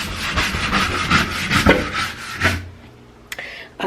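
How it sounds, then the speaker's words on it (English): Steady rhythmic scrubbing of a door handle with soapy suds, close and loud, a run of repeated rubbing strokes that stops near the end. "instead of y'all having to hear me keep scrubbing this and talking"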